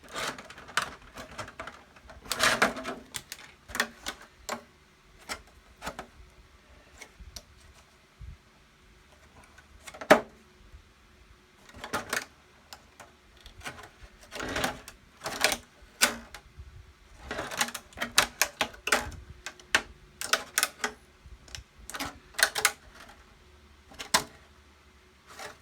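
A knife scoring the clear body shell of a Tamiya 1/10 RC GR Yaris, giving sparse, sharp scratchy strokes in irregular bursts separated by quiet pauses, close and fairly faint.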